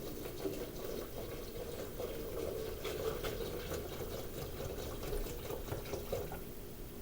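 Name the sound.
vinegar being poured into a container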